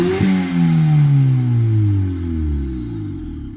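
A tuned car engine drops from a high rev, its pitch sliding steadily downward over a few seconds as it settles back toward idle with the throttle untouched.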